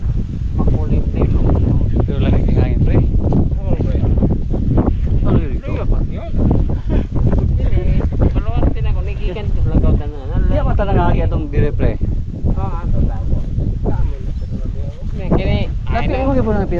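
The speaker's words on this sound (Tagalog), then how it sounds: "Pagkalamig dito, hangin." Wind gusting hard against the microphone outdoors on a cold, open overlook, a constant loud rumbling roar under steady talking throughout.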